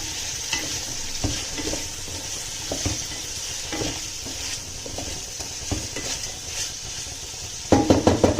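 Vegetables for veg dum biryani fry in a pot, giving a steady sizzling hiss with scattered soft scrapes and knocks of stirring, then a louder metallic clatter near the end, close and free of speech.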